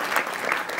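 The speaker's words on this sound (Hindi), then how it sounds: "गणेश जी के लिए जोरदार तालियां बजाइए।" Audience applause at a live launch event for a devotional song, a dense, steady wash of clapping from a crowd filling the short moment evenly, with no voices standing out.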